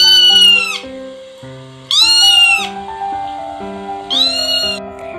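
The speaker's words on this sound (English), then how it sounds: "The answer is cat." A domestic cat gives three loud, drawn-out meows, each a separate call spaced about two seconds apart, close and clear over a soft background of sustained music tones.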